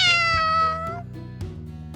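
A little pet cat named Stormy, part of a witch costume in a children's cartoon costume party, gives a single drawn-out, clear meow, close and loud, trailing off over a soft background.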